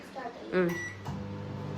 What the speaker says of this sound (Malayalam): microwave four one minute